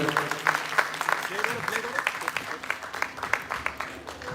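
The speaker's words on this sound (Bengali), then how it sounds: "সবাই একটু জোরে করতালি দেবেন" An audience applauds at a sports felicitation ceremony held by a local club. A voice speaks over the start, then rhythmic, moderately loud clapping carries on steadily through the rest.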